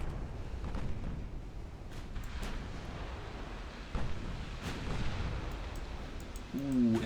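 Naval guns fire explosive rounds in the Ultimate Admiral Dreadnoughts battle game, a series of faint, scattered booms over a low rumble, with a brief tonal effect at the end.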